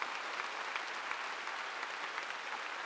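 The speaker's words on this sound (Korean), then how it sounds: "박수로 하나님께 영광을 돌려야 된다는 겁니다" A large church congregation at a rally in a gymnastics arena applauds, a continuous, even roar of many clapping hands heard from a distance at a modest level, with no voices over it.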